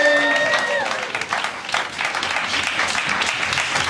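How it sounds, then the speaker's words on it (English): A comedy-show audience applauds comedians as they walk off stage, a dense, steady wash of clapping throughout, with a voice over it briefly at the start. "Give them all a huge round of applause as they make their way back off the stage."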